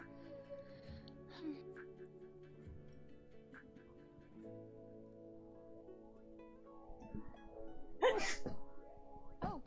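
A single sharp sneeze breaks through near the end, loud and close, after several seconds of quiet background hum and scattered small sounds.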